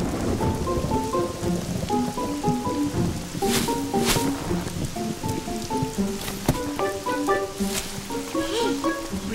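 Steady cartoon rain patters over a soundtrack of light melodic music, with a few sharp crackling bursts like distant thunder; no one speaks.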